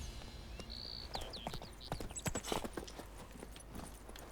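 Roach, the horse in The Witcher 3, gallops with quick hoof clops that thicken in the middle of the stretch, set against a faint in-game ambience with whistling birdlike tones.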